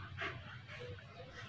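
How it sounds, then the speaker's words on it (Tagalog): A pet dog visiting someone crocheting indoors gives a single brief, faint whimper or yip near the start, then only quiet room hush follows. "binisita ako ng aso ko habang naggagawa ko"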